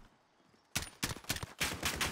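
Bursts of automatic gunfire from Call of Duty Modern Warfare, starting after a short quiet lead-in, then several loud volleys in quick succession, with no talking.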